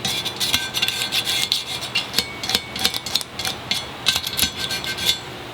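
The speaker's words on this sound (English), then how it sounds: "Scrape it off nicely." Metal scraper rasps adhesive residue off a part from an overheating VW engine during timing belt and chain work, a quick series of short, loud, uneven strokes with no talk.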